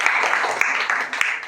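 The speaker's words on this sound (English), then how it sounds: "Clap for us." A classroom of children applauds during a spelling and word-meaning competition, a short, steady burst of many hands clapping close by with a few louder individual claps standing out.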